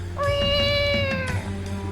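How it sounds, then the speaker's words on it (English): A cat meow made as a distraction in the video game The Legend of Zelda: The Wind Waker: one drawn-out, clear mewing call heard up close over a low game hum, ending with a short falling tail. "you can meow like a cat to distract her."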